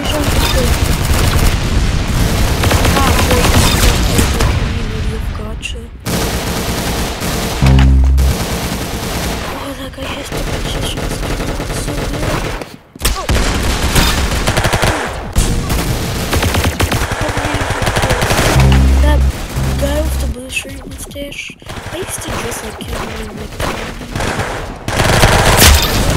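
Rapid bursts of gunfire from the video game Arsenal, dense and loud through most of the stretch with a few heavier booms, while players talk over the shooting.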